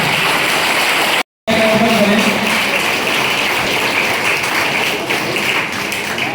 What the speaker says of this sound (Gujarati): વિદ્યાર્થી મિત્રો, તાળીઓનો અવાજ કરવાનો જોઈએ.